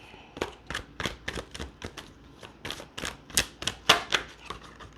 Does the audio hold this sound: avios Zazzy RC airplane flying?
no